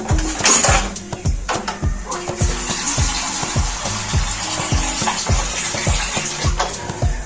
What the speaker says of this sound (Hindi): और अब इसमें हम पानी शामिल कर देंगे।